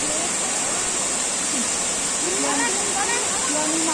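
Waterfall at Cachoeira dos Mos, a steady broadband rush of falling water filling the scene, with family voices talking and calling over the roar.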